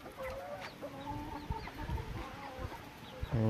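Chickens, including bearded hens, cluck softly and repeatedly in a quiet coop, with short scattered calls and a louder squawk at the end.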